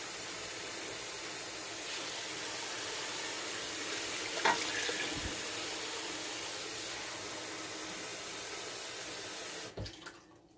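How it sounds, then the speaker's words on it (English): Water from a kitchen tap runs steadily into a pot of homemade chicken noodle soup, a continuous close hiss with a couple of small clunks before it shuts off. "I'm going to add some more water"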